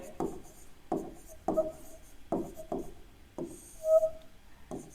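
Pen strokes scratch across paper as a maths solution on relations and sets is written out, a run of short scraping bursts about every half second to second, close and fairly quiet with no talk.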